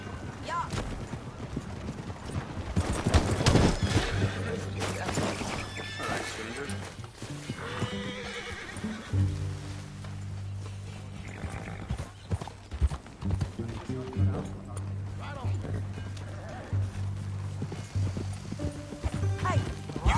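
Horses trot and gallop with rhythmic hoofbeats and an occasional whinny in the video game Red Dead Redemption II, while people talk over the riding.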